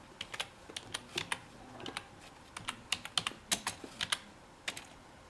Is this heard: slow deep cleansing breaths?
no